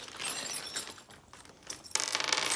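A bunch of Allen keys for a Rocky Mountain 5-pin bow sight clink and jangle inside their package, giving a few bright metallic rattles close by and no talking.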